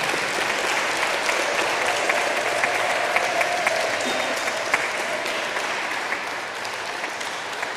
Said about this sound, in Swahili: tuanze kushangilia ndio walete.